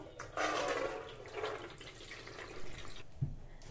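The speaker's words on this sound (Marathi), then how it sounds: "आता चाळणीवर आपण ही डाळ निथळून घेऊ" Water drains from soaked chana dal held in a sieve, a close, short gush that eases into softer trickling and drips.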